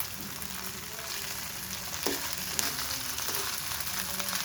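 Eggplant and potato chips fry in a shallow layer of oil over a medium-low flame, giving an even, continuous sizzle with a few soft scrapes and taps from a spatula.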